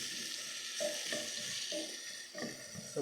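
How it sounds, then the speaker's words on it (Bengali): Meat for haleem frying with spices in a pot, a continuous soft sizzle broken by several rhythmic stirring scrapes, close and fairly quiet with no voices. "আমি আগে মাংসগুলো কষিয়ে নিব মশলা দিয়ে"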